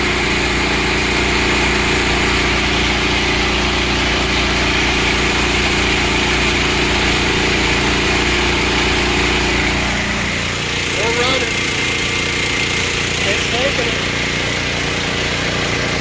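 A Wen portable generator drones loudly and steadily while powering an air conditioner, its engine note shifting and settling under heavier load partway through as the AC compressor kicks on.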